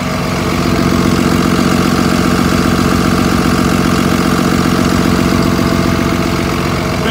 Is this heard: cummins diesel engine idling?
yes